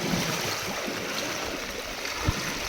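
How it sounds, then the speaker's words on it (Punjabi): Floodwater flowing into a village rushes steadily and continuously nearby, a dense, even gurgling wash with no voices. "ਇੱਥੋਂ ਪਿੰਡ ਦੇ ਵਿੱਚ ਐਂਟਰੀ ਹੁੰਦੀ ਆ ਪਾਣੀ ਦੀ"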